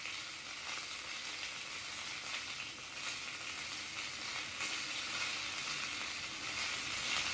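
Shrimp searing in a hot pan for a seafood dinner, a steady close sizzle of frying that holds evenly throughout with no talking.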